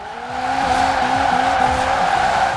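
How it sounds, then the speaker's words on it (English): A 1994 Toyota Celica GT-Four ST205 AWD engine pulls hard with a steady, loud drone, a turbo whine riding over it as the pitch shifts from second to third gear. "You can hear the turbo."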